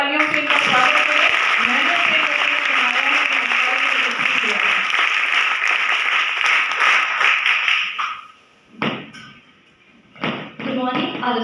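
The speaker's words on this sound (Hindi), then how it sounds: "एक बार जोरदार तालियों से इनका स्वागत करें।" An audience at a girls' NCC battalion Vijay Diwas ceremony claps loudly and steadily to welcome cadets for about eight seconds, then the clapping stops and a voice begins speaking.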